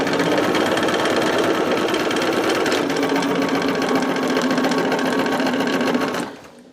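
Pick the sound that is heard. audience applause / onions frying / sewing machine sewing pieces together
sewing machine sewing pieces together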